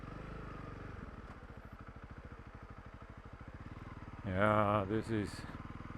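A Honda CRF 300 Rally motorcycle crawls through deep sand in first gear, its single-cylinder engine chugging in a steady low pulse with a cooling fan running, and someone briefly speaks over it near the end.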